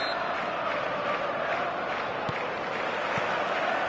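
A stadium crowd roars at a football match in a PS4 video game, a faint, steady wash of massed voices and cheering.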